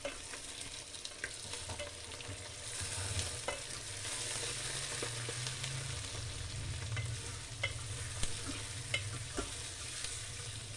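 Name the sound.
chicken frying in oil in a pan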